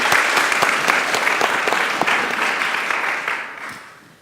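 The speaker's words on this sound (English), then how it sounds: "prolong your applause a little bit longer for Anna, please." Conference audience applause at DotYork 2018 in York for a speaker taking the stage, dense, loud, continuous clapping from a crowd that gradually fades over a few seconds, with no talking.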